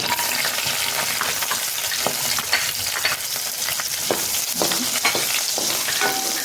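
Garlic and ginger drop into hot oil for Yippee egg noodles, setting off a loud, steady frying crackle with scattered sharp pops and spatula scrapes throughout.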